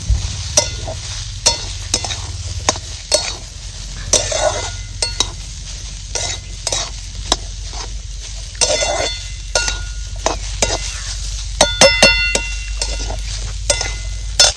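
Raw papaya vegetable roasting in oil in a pan, a steady sizzle with repeated scraping stirs and occasional light spatula clinks, close and fairly loud.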